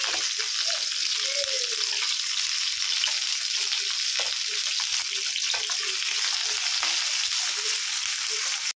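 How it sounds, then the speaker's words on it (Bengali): Onions, tomato, garlic and ginger fry in a pan with a loud, continuous sizzle and occasional faint stirring, steady throughout. "এগুলো একটু উল্টে পাল্টে ভেজে নেব।"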